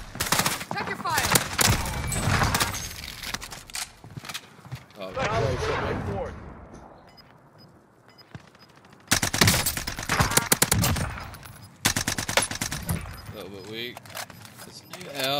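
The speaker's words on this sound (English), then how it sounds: "This new AR just bangs so hard." Assault rifle gunfire in a battle royale video game, loud sustained bursts and rapid shots with a lull in the middle, alongside in-game voice lines and player chatter.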